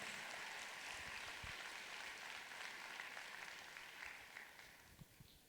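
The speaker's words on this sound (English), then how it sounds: "So give them a fantastic applause." Audience applause at a corporate event honouring the company Forever, a dense wash of clapping held steady for several seconds before thinning toward the end, faint and distant.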